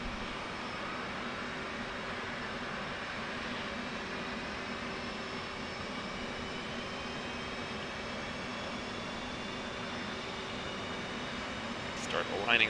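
An F-18's number one engine spooling up in a flight simulator, a steady whining jet drone with rising tones that holds evenly throughout, with a brief click near the end.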